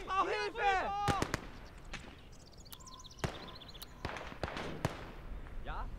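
Grenade explosion in Gates of Hell, heard as scattered sharp, punchy blasts at a middling distance amid battlefield noise, following a short shouted voice at the start.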